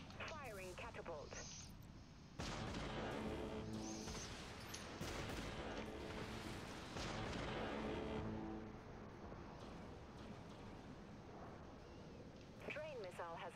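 A catapult launches in a sci-fi combat video game with a loud, sustained whooshing boom that rumbles on for several seconds before fading, and a voice speaks before and after it.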